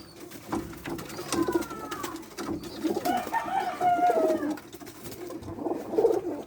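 Soft, repeated cooing calls from a young fledgling bird, close by, rising and falling over a low background rustle.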